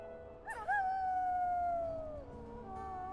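A wolf in the video game WolfQuest lets out a long, clear howl that rises, holds a steady, slowly falling note, then trails off before a softer second note, with no speech over it.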